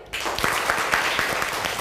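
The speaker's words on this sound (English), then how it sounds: "Clap for him." A classroom of students claps for a classmate who just answered a question, a short burst of many hands with distinct sharp claps, close and fairly loud, without talk.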